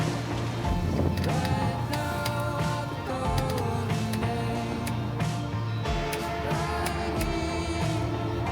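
A sailboat under sail at 7.5 knots near St. Thomas, with continuous wind noise, water rushing along the hull, and creaks and knocks of rigging throughout.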